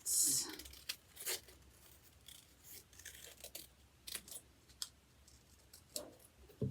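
Scissors cutting a fin shape out of folded paper for a pufferfish craft, a series of soft separate snips and paper rustles spaced irregularly, close and fairly quiet.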